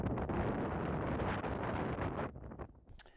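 Strong wind gusts of around 20 to 30 mph roar loudly against the microphone for about two seconds, then drop off abruptly into quieter, fading rustles.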